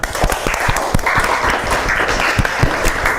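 A classroom group claps in a dense, lively burst of applause during a teacher training lesson, with sharp individual claps standing out against steady hand noise throughout.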